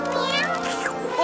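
A cartoon cat in a German-dubbed children's animated episode lets out one drawn-out, wavering meow, loud and close, voiced in a sing-song, almost speech-like way.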